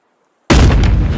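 Sudden loud gunshot boom from the video game Animal Company: a sharp blast out of silence with a heavy, rumbling tail, close and alone.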